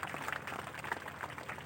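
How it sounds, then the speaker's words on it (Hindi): A crowd at a public gathering applauds while a speaker is garlanded: a dense, steady wash of clapping hands with no clear gaps, filling the whole short stretch. "जब माला पहनाएंगे आप लोग तालियों के गड़गड़ाहट कीजिए"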